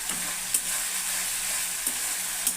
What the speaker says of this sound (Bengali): মশলাটা যাতে ভালো করে কষানো হবে